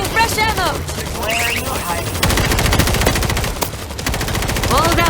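Rapid bursts of cannon and gunfire in World War Z Horde Mode against a zombie swarm, loud and dense, with brief voices in the mix.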